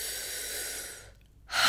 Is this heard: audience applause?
no